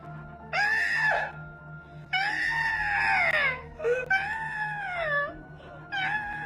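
A man imitates a woman's screams with high, strained, wavering cries in several bursts of about a second each, moderately loud against a faint steady hum, with no other talk.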